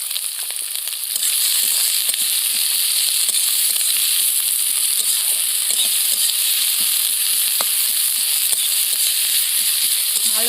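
Chopped onions and green chillies fry loudly in a wok with hot oil, a steady bright sizzle throughout, punctuated by faint scraping of a spatula as they are tossed for chow mein.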